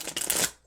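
Tarot cards riffled in a brief shuffle, a dense papery flutter that rises and then stops short, close and fairly quiet with no talking.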